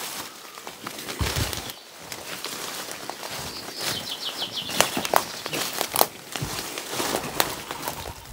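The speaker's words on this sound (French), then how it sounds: "c'est des oiseaux qui s'envolent." Scattered rustling and crackling with brief bursts of flapping as birds take off nearby in a cave, over a quiet background.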